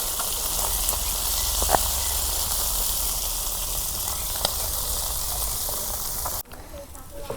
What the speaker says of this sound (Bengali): এক খোলা মাছ ভাজা হয়েছে